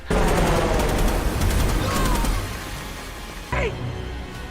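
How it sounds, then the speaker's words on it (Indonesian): Loud, sustained rapid machine-gun fire from a helicopter rattles almost without pause, easing after a few seconds, with a sharp burst near the end. "heli tersebut menghujani mereka dengan tembakan"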